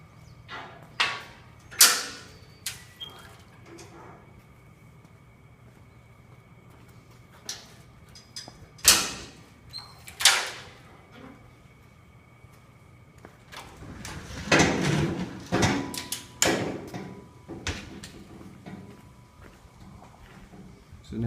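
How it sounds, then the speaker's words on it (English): Kiln doors being opened during a kiln floor rebuild, giving a series of sharp clanks and bumps that come in uneven bursts, with a denser cluster of scraping knocks toward the end, close by. "I'm going to open them up."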